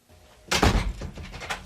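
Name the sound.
door being shut and locked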